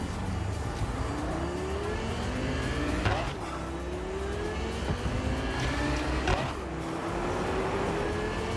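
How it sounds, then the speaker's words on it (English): A car engine in Cyberpunk 2077 revs continuously, pitch climbing steadily through several gear changes, with rising whines that drop and restart alongside tire noise, loud and close throughout. "They changed a little bit of the sounds of the engine of this car as well"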